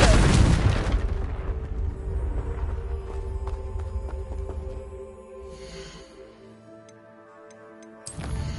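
A Confringo fire spell explodes in the Hogwarts Legacy video game, one loud boom at the start that rolls off into ticking and crackling debris, fading quieter before another burst at the end.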